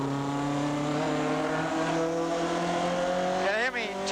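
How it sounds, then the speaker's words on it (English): A 1981 Bathurst race car drives through the S-bends, its engine holding a loud steady droning whine before a brief shift in pitch near the end, heard alongside radio-style commentary. "as he takes the car down through the S-bends"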